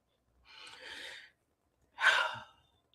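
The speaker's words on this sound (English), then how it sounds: "take a deep breath." A deep breath taken during a guided talk: a soft, drawn-out inhale followed by a stronger, louder exhale, close and alone in silence.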